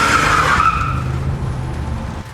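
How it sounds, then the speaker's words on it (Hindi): A car brakes hard at night on a road, tires screeching loudly close by and fading as it skids to a stop, with no talking. "अचानक धीरज ने कुछ देखा जो देख उसकी गाड़ी एक जोरों की ब्रेक की आवाज़ से रुकी।"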